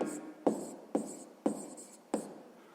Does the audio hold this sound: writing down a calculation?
yes